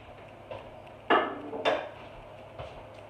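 Drained corn for a tamale pie goes into a metal pot in two quick clattering pours, close and fairly loud, followed by a light knock.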